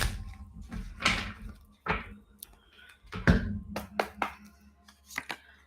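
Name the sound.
shuffling tarot cards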